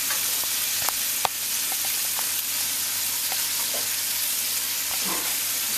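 Peppers frying in a pan give off a steady, close sizzle with a few sharp pops and crackles scattered throughout, and no talking.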